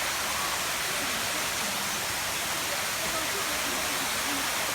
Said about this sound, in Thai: น้ำตกเงินแล้วนะครับ